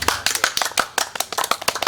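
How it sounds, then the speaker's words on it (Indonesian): A small audience claps hands at a talk with a regional rescue brigade leader, crisp individual claps in a quick uneven patter, close and clear with little else behind them. "tepuk tangan boleh dong"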